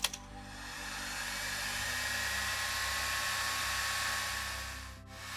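Heat gun blowing hot air onto a solder seal connector on a motorcycle ground wire, a steady close whooshing hiss that begins abruptly, holds level for several seconds and then cuts off near the end.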